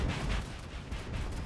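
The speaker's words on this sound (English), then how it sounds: "Let's see how the infantry rocket do against vehicle." Rocket launches fired from a scout helicopter in Battlefield 2042, a loud low booming burst at the start followed by a rumbling decay and a second softer thump.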